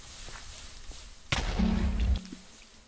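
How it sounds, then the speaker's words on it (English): An explosion in the Minecraft modpack Dissent starts with a sharp thud and then rumbles low for close to a second before fading, loud and near. "the explosion gets pretty big"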